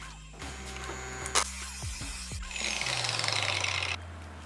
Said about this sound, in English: So we're going to start cutting this plate now in this bar